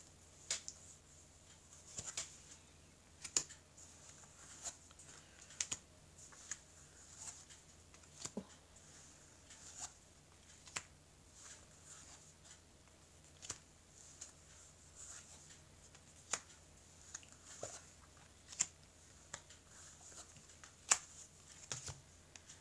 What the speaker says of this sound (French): on va couper le jeu et on va recouvrir les cartes ici.